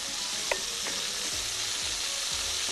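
Chopped carrots, hot peppers, bell peppers, cucumber and tomato stirred together while frying in a pan, a steady loud sizzle with a few scraping stirs, close up and with no talking.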